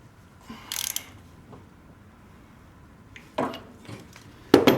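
A heater hose fitting at the intake manifold of a Tahoe is snugged down, giving a few sharp metallic ratchet clicks and clanks in short bursts between quiet pauses.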